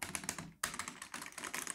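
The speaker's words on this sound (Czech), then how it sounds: "schválně poslouchejte, jak jako znějí klávesy" Computer keyboard keys clatter in quick, steady bursts of typing, close and fairly crisp, with one brief pause partway through and no voices.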